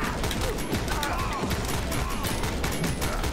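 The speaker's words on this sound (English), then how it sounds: "I literally cannot shoot fast enough." Gunfire in the John Wick commute simulator video game, a dense, rapid stream of overlapping shots that stays loud and constant over a busy background of game noise.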